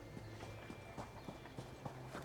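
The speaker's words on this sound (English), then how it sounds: "Ooh, that's a fancy horse." A horse's hooves clip-clopping at a walk in the video game ESO, a quiet, regular pattern of knocks repeating about every half second.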